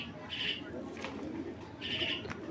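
Large racer pigeons cooing in a loft, two soft, drawn-out coos separated by a pause, close and fairly quiet over faint background noise.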